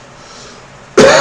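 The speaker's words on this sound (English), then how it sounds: "I apologize for coughing." A man gives a single sharp, loud cough right at the end after a quiet, near-silent stretch.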